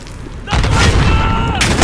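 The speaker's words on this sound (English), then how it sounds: "And they threw a grenade." Grenade blast in Call of Duty: Modern Warfare gameplay, a sudden loud broadband boom at about half a second that rumbles and sustains to the end, with a second burst near the close.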